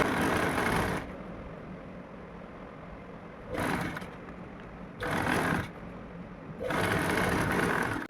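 Electric sewing machine stitching the slit of a cotton kurti, running in four loud whirring bursts of about a second each, with quieter fabric handling in between and no talking.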